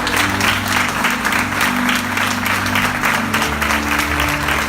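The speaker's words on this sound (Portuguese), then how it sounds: "Dá um forte aplauso ao Senhor." A church congregation claps together in sustained, dense applause that runs steadily throughout, loud and close, with musical tones underneath.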